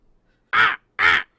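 A raven gives two loud, harsh caws in quick succession, close and isolated against silence.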